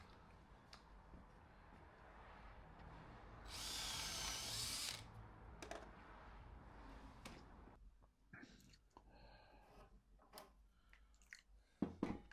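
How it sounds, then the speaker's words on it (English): A power drill bores a pilot hole through wood into brick, one loud whining burst of about a second close by, followed by quieter handling clatter and knocks. "So I'm going through the wood now and drilling a pilot hole into the brick."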